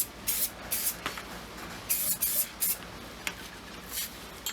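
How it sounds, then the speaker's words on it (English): Budget hairspray sprayed onto motorcycle handlebars during a Scott Bonnar 45 rebuild: a string of short hissing bursts of varying length with brief pauses between them, close by and without speech. "I'm just using my budget hairspray from Kohl's."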